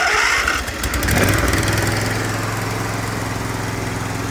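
Small engine of a Ferris IS600Z zero-turn mower idling steadily and close by, a smooth, even drone after a brief rise in revs at the start, with no talk over it.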